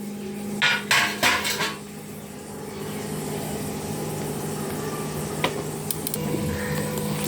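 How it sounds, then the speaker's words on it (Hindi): Baati dough balls set onto a metal oven tray make several sharp clanks and rattles early on, followed by a quiet, steady kitchen background with a few small knocks and no talking. "ये हम लोग ट्रे लेंगे इसका ओवन का, उसमें बाटी रख देंगे"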